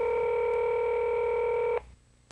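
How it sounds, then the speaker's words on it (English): A Motorola cellular portable phone from around 1994 sounds one long, steady keypad tone, loud and clean, which stops abruptly, followed by near silence and a faint click. "you can call it up by pressing recall and pound"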